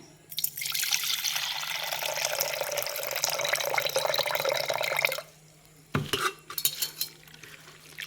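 Water pours and splashes steadily for several seconds while soaked rice is strained, then stops, followed by a few scattered drips and wet clatters nearby.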